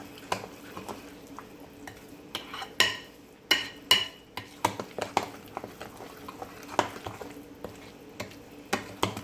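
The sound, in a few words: mixing sweet potato pudding batter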